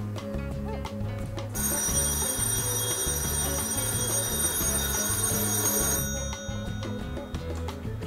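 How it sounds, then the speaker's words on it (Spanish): An antique telephone in a house museum rings continuously with a bright metallic trill, loud and close, pausing briefly before ringing again. "escuchen timbrar este teléfono antiguo"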